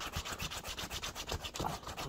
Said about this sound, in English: So rub it, the suede cleaner all in.